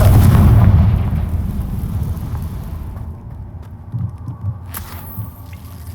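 A Confringo fire spell blasting in the Hogwarts Legacy video game, beginning with a loud, heavy booming burst and then tailing off into a long, rumbling decay with faint clatter and debris sounds.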